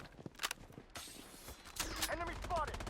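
Gunfire in the shooter video game Blood Strike, a few sharp shots in quick bursts with a whooshing effect and footsteps, mixed with excited talking.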